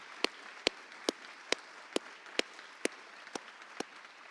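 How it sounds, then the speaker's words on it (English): A few slow, evenly spaced claps ring out at a secondary school awards ceremony, around ten separate hand claps, quiet and sparse rather than a full crowd ovation. "Can we give them all a round of applause?"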